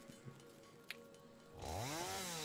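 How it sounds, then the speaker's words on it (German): A chainsaw in the video game Satisfactory starts up loud and close after a quiet stretch with a few faint clicks, then revs steadily in a sustained whine that holds to the end. "Wie mich einfach in jedem Spiel der Sound von der Kettensäge nervt."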